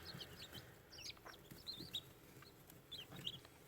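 Newly hatched chicks, a mix of Australorps, Orpingtons, Sussex and Araucanas, give soft, scattered high-pitched peeps that are faint and fairly distant, with no voices.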